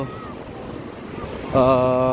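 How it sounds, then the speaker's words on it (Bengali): Ocean surf at Hulhumale public beach in the Maldives rumbles steadily with wind noise, while someone speaks over it near the end. "সমুদ্রের যেই গর্জন"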